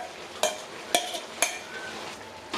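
Ground masala paste for chicken chops fries in a pan, a low sizzle broken by three or four sharp stirring scrapes at even intervals, close and fairly quiet.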